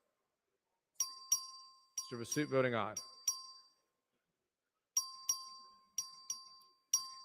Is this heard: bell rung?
yes